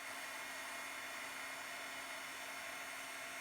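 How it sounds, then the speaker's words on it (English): A heat gun blows a steady, even whoosh of hot air at close range, melting embossing powder on heavy vellum cardstock, with no other sounds. "or melting it rather with my heat gun"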